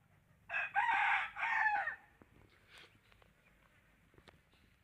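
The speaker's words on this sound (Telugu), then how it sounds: "సోనాలి పుంజు" A six-month-old Sonali breed rooster, a native backyard chicken, crows once loud and close, the call breaking into two long strained bursts, followed by quiet scratching and faint background noise.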